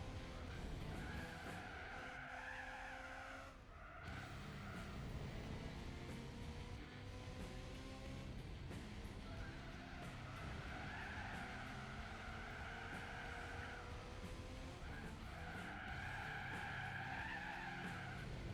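Tires squealing through a drift in Gran Turismo 4 during a Japanese compact car race, long wavering screeches rising and fading repeatedly over a steady engine drone, fairly quiet overall.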